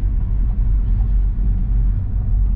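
Audi A4 (B8 platform) pulling away on a road test after an ABS pump module replacement, a steady low rumble of engine and tyre noise from inside the cabin with no talk.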